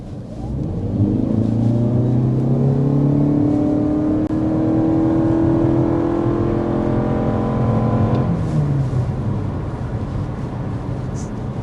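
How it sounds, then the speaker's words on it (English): A 2025 Lexus UX 300h hybrid accelerating from a stop to 60 mph in sport mode, heard from inside: a steady engine drone climbs in pitch, drops briefly at a shift, then holds over continuous road rumble. "So that was a 0 to 60 from a stop there, in the sport mode as well."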